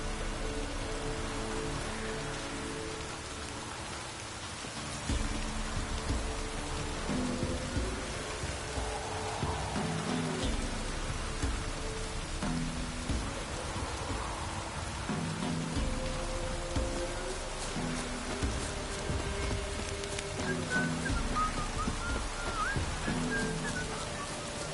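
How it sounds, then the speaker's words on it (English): In The Witcher 3: Wild Hunt, steady rain patters and hisses throughout, continuous and moderately loud, with no voices. "Looks like rain."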